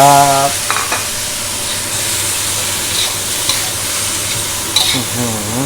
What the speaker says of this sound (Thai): จากนั้นต้อมจะใส่ปลาหมึกที่เราลวกไว้แล้วนะครับ ลงไปผัดเลยนะครั